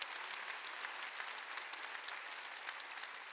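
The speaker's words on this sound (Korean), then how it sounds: "깨달은 사람만 박수 치라고." Applause from a church congregation at a Wednesday worship service, a steady dense wash of many hands clapping that holds evenly through the whole stretch without a break, with no talking over it.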